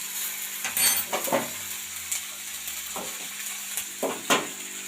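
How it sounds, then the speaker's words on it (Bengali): Dried red chillies and five-spice seeds hit hot fish oil in a pan, giving a crackling sizzle with a few sharp spurts and stirring scrapes, close and without talk. "ওই মাছের তেলে শুকনো লঙ্কা দিয়ে দিলাম এবং 5 ফোড়নও দিয়ে দিলাম"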